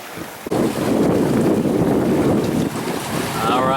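Strong wind buffets the microphone aboard a sailboat moving at about 6 knots in roughly 18 knots of wind on Florida's panhandle coast, a steady loud roar with water rushing along the hull.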